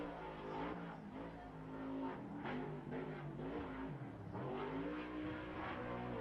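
A modified race kart engine accelerates hard at short-course racing at the SBC Fairgrounds, a steady loud droning whine that rises and falls in pitch as it revs through a turn and pulls away.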